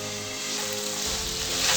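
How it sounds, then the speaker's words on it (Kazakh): Meat fries in hot oil in a kazan cauldron, giving a steady, close, crackling sizzle that swells slightly toward the end, with no voices. "Қазанға май құйып қыздырып, үстіне ет салдым."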